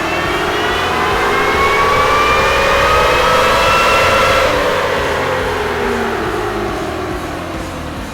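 A Toyota Tacoma engine revs hard on a dyno, its loud whining pitch climbing steadily through the run, peaking midway, then easing back down as the engine winds off, with no talking.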